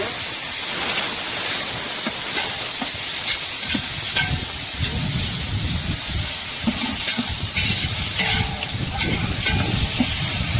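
Ginger garlic paste sautéing in a hot pan for chicken biryani, a loud, steady sizzle and hiss throughout with occasional stirring scrapes underneath.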